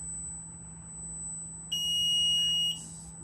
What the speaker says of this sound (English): It'll beep again and this light will turn red.